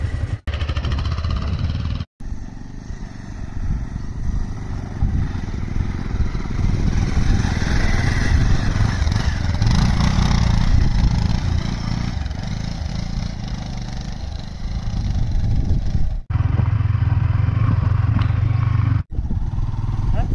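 A Yamaha R15 V3 motorcycle rides off-road over rough ground, its engine note loud and close and holding steady for about twenty seconds, with brief sharp dropouts and a tiny bit of talk mixed in.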